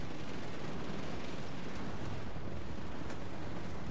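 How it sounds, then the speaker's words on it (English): Gunfire in the video game Planetside 2 during Galaxy gunner gameplay, a loud, dense barrage of shots and booming impacts under a constant roar, with no clear gaps between rounds. "people are shooting at us now"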